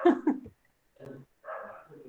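A dog barks at a cat somewhere in the background, giving a couple of short yelps followed by quieter muffled bursts with pauses in between.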